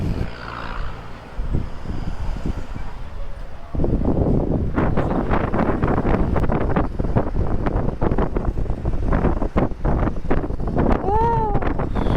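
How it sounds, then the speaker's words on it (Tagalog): Wind roars and buffets against the microphone during a motorcycle ride in Pangasinan, a rough, loud, continuous rush that swells stronger partway through, with faint engine rumble beneath. "Sarap ng simoy ng hangin."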